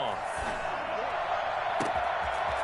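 A stadium crowd at an NFL game between Detroit and its opponent roars steadily on a third down, a loud, continuous wash of noise from the stands with a play-by-play voice talking over it.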